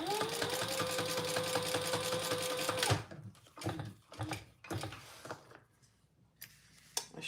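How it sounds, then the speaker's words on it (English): A sewing machine top stitching a lining gusset runs steadily at close range for about three seconds, then stops; after that come scattered handling clicks and knocks. "We're top stitching on the lining gusset."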